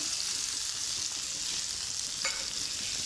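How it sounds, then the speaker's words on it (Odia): Onions frying with garlic in a large cooking pot for a feast, a loud, dense, continuous sizzle with stirring that fills the whole stretch, close up and without any talk. "ପିଆଜ ଭଜା ହେଉଛି।"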